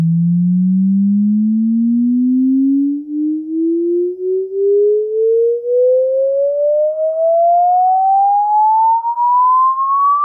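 A synthesized pure sine tone sounds alone and loud, its steady pitch gliding smoothly upward from low to higher over about ten seconds.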